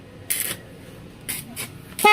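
Horn of a Yamaha Mio i 125 motorcycle, weak and hoarse from a fault, giving a few short separate honks with pauses between them, fairly close and on its own.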